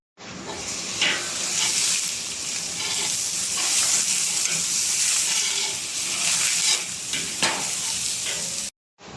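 Onions with fresh coriander and mint sautéing in a pot for vegetable biryani, a steady close sizzle with stirring scrapes and brief louder crackles throughout, no talk.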